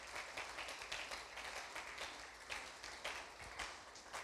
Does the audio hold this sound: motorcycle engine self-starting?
no